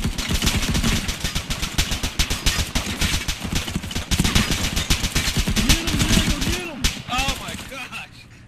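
Rapid automatic gunfire in the video game Arma Exile, loud dense bursts of shots hammering almost continuously with a few trailing cracks near the end.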